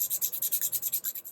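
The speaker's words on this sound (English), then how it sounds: "I want to sand this base at the top" Close, rhythmic sanding strokes on the top of an office chair base, about a dozen steady rasping passes in quick succession with no talking.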